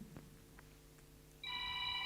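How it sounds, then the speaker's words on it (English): A telephone rings in a quiet room during a morning class, its bright electronic warble breaking in partway through, clear and steady over a low background hum. "Phone."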